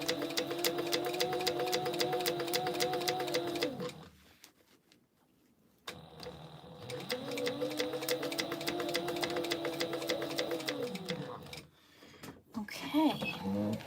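A sewing machine runs in two long steady bursts of rapid, whirring needle strokes with a brief quiet pause between them, ending with a few short clicks and handling sounds, working a crossbody bag.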